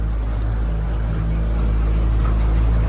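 A small aluminium tinny boat's outboard motor given a little throttle, a loud, continuous engine roar with rushing water and wind noise, steady and close throughout.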